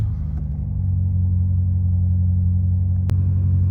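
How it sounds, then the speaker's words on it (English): A BMW M5 Competition LCI engine idles with a deep, steady rumble, a sharp click cutting in near the end. "I will start the car up and give you a little look"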